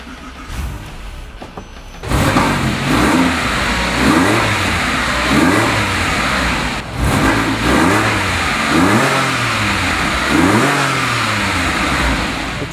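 A 2006 Porsche 911 Coupe engine cranks and catches after a quiet moment, then settles into a close, loud idle with repeated revs rising and falling, the note changing partway as the sport button is pressed.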